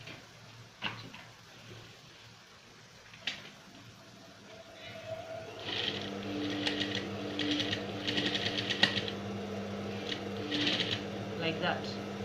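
A sewing machine stitches a waistband onto a pleated skirt, its quiet rapid ticking and whirring starting partway through and running in short bursts after a few isolated clicks, faint and close in a quiet room.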